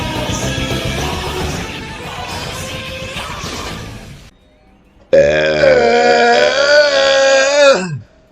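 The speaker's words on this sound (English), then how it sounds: "Why did you start it after my burp?" A loud, long, drawn-out burp fills the last few seconds, ending abruptly. Dense music plays in the first half before a short pause.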